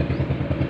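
A fuel-injected Honda Beat motorcycle with a rough starter, being cranked: a short, close burst of rapid, even mechanical churning with a low pulsing rhythm, no talk.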